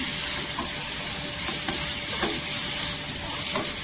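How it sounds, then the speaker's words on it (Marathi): Dried small shrimp sizzle steadily as they are stir-fried in oil on a pan, with occasional scraping strokes of the spatula over a constant frying hiss and no talking. "इथे पहा असं छान असं तेलावर परतून घ्यायचं."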